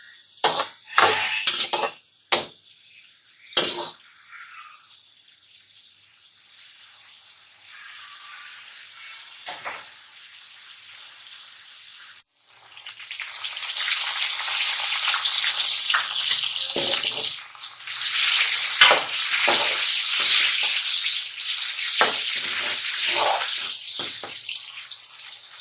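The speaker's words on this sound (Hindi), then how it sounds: "सबसे पहले हमने कढ़ाई में 1 कप घी गर्म होने के लिए रख दिया था। इसमें हम अब प्याज शामिल कर देंगे" After a few sharp knocks and a quiet stretch, a sudden loud hiss rises as onions go into a kadai of hot ghee, then a sustained close sizzle with occasional stirring clatter.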